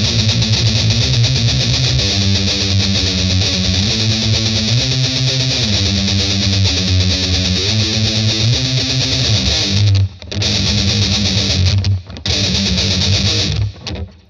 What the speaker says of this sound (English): with some nice heavy distortion and some right hand palm muting